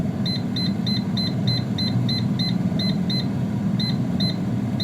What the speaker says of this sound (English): we're going to set our air fryer at 170 degree